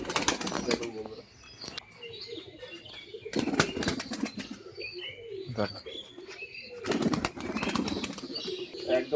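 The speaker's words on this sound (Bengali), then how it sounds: "হাত বাজি পায়রা দুটো করে বাজি করলো দেখুন বন্ধুরা" Pigeons flap their wings in loud, close bursts during a hand-released tumbling display, three clusters of rapid flapping separated by quieter gaps with faint coos and chirps, no talking.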